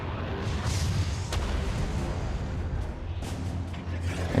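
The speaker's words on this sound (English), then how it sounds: "you just shoot the ground, unload all your ammo here" Gunfire from a weapon emptying its ammo into the ground in the Mass Effect 3 video game, heard as dense continuous rumbling bursts with a few sharper cracks, loud throughout.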